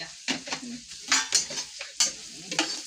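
Onions sautéing in a pan while a utensil stirs them, giving several scraping, clattering strokes over a soft sizzle, close by, with no talking.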